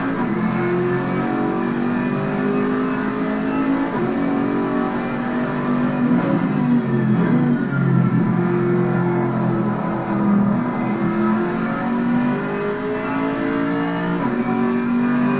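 A GT4 race car engine drones steadily at high revs, with gear shifts and pitch changes over the sustained roar, in the video game Assetto Corsa Competizione.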